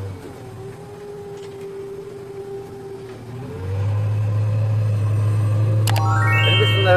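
Car engine pulling uphill after a gear change, a steady mid-pitched drone that shifts partway and then rises to a louder, deeper hum held to the end, heard from inside the car.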